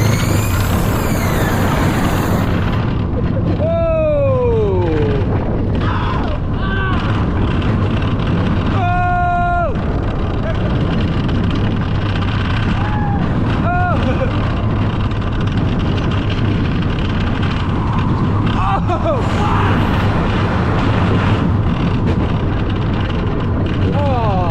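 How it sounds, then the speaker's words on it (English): Zamperla Pony Express motorbike coaster at Knott's Berry Farm, opened 2008, rumbling loudly and continuously along its track with wheel roar throughout, while riders' voices and scattered screams rise and fall over the ride noise. "we've arrived at Pony Express, which is a motorbike coaster from Zamperla that opened in 2008"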